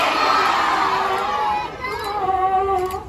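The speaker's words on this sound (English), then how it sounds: "we're gonna shout out Jump Diego on three" A crowd of children and adults at a zoo animal show shouts in unison, a loud, close roar of overlapping voices that holds, then tapers off into scattered cheering.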